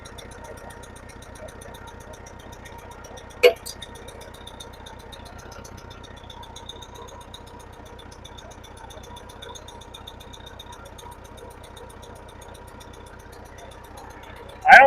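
A Case 430 tractor's engine idles in a low, steady, even chug, with a sharp clank near the start and another thump at the very end.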